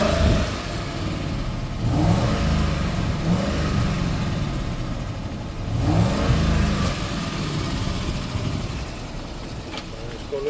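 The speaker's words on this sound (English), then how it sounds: "Let me rev it up for you so you can hear it." A 2010 Ford F250 XL utility toolbed truck with a gas engine revs twice from idle, each rise swelling and falling back to a steady, close, rumbling idle.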